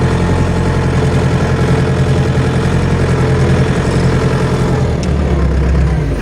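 A DF 404 tractor engine runs steadily while pulling an Unia Grudziadz 2-30 plough, a loud, continuous low diesel drone with a constant throb and no voices.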